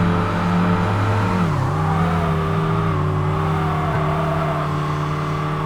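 Racing car engine from the video game Kaido Racer, heard from an outside view: a loud, steady drone that holds continuously with a slight pitch dip and recovery midway, no talking.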